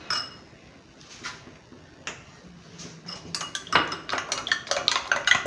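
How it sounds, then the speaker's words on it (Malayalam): Three beaten, salted eggs are scrambled in a frying pan, with a utensil clinking and scraping against the metal. The stirring starts sparse and grows into busy, rapid clatter close by, with no talking. "ഒഴിച്ച് ചീനച്ചട്ടിയിൽ നമുക്കിത് ചിക്കിയെടുക്കാം."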